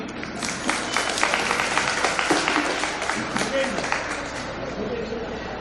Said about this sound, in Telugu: అందరికీ సార్ ఒకసారి క్లాప్ కొట్టండి.